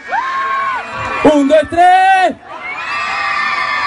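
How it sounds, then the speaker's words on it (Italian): Concert crowd in a town square screaming and cheering in loud rising bursts, with a voice counting aloud over the noise at the start. "Fatemi sentire i vostri urli"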